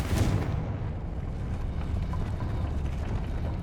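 Confringo blast spell in the video game Hogwarts Legacy, a loud booming explosion at the start followed by a dense, rumbling roar that holds steady, with no talking.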